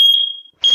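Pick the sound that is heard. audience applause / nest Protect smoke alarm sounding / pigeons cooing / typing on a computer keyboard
nest Protect smoke alarm sounding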